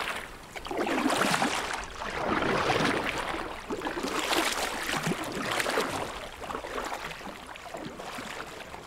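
Kayak paddling on a volcanic crater lake at Sete Cidades in the Azores, rhythmic swishing strokes and water splashes close by, rising and falling in regular surges with no talk.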